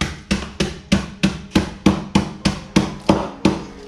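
Walnuts for a walnut and apple stuffing get bashed with about a dozen evenly spaced, loud hard thumps, each a sharp knock with a short woody rattle, repeating at a steady rhythm.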